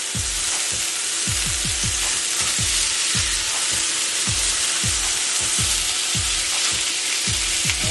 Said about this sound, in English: So it's time to turn these bad boys over.